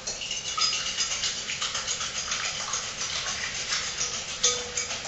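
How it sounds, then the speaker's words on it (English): Eggs whisked in a bowl for a spanakopita filling, a steady, rapid scratchy patter of the whisk against the bowl running throughout at close range, with no voices. "So I've cracked 3 eggs into this bowl. I'm going to whisk those up nice."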